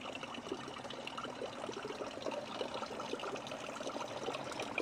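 Water trickles slowly in a soft, continuous stream, faint and steady with small gurgles and no voices.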